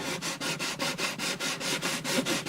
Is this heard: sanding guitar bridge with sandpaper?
yes